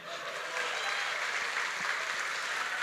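A crowd applauds at a crypto summit talk, a loud, even wash of clapping that holds steady for the full few seconds with no voices over it.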